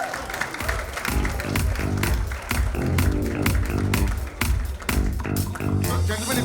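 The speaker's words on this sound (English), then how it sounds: "Big round of applause, ladies and gentlemen" A crowd applauds at the trailer launch of the film 800, a biopic of cricket legend Muttiah Muralitharan, with dense, continuous clapping filling the room at a steady level.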